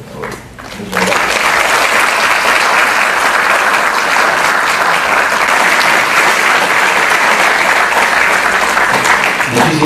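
An audience at a legal conference in Lima breaks into loud, sustained applause that starts abruptly after a second and continues steadily as a dense roar of clapping.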